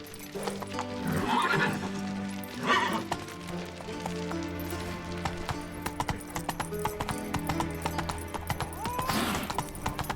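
Roach, Geralt's horse in The Witcher 3, clip-clops along with steady hoofbeats and lets out short whinnies over a dense bed of game music and ambience.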